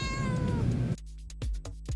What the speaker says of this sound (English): I have a very needy cat here for some reason.